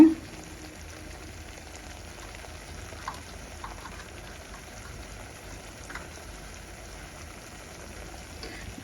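Onion chili paste frying in a pan for a spinach dish, giving a steady, soft sizzle that crackles evenly throughout with no one talking.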